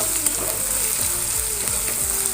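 Ground cumin and coriander powder sizzling in hot oil while being stirred, a constant close crackle broken by the scrape of a spoon pushing the spices around the pan, with no speech.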